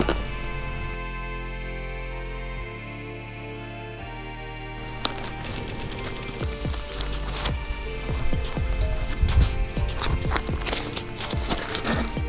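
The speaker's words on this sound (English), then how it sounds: "Now I'm just gonna rip them out with the needle nose." Needle nose pliers rip staples out of a KX250 dirt bike seat, making a rapid, irregular series of close metallic ticks and clicks that grows busier and denser toward the end.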